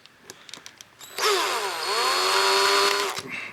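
Cordless drill driving screws on a Yamaha 9.9 four-stroke outboard carburetor, a few light clicks then a loud, close whirring stutter lasting about two seconds as the bit is held at an angle, no talking.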